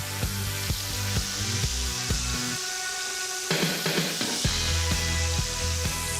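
Thick pork sliders sear in a hot pan with olive oil, a moderate sizzle broken by clacks and bumps of handling, with a brief burst of louder hissing midway.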